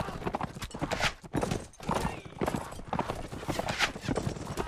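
Horses gallop in Mount & Blade: Warband, a medieval battle game, with rapid, continuous hoofbeats, nearby whinnies and clattering combat noise throughout.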